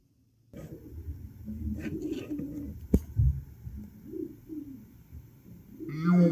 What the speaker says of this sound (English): Pigeons are looking at me.